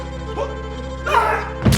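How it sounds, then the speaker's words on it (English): A short hollow thunk followed by a sharper crack and splintering burst at the end, a wood-breaking sound effect, close and loud. "What you hear is a sample of some wood breaking"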